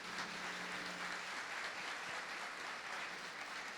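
Faint, distant applause fills an auditorium at a parish gathering in Curitiba, an even patter of many hands clapping at low volume without any talk.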